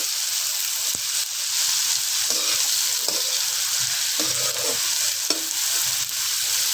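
Onions and green chillies fry loudly in a pan for achari bhindi masala, a constant close sizzle broken by occasional clicks and scrapes of stirring.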